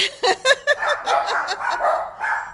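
Several dogs bark in a rapid flurry, a few sharp yips followed by overlapping barking, close and fairly loud.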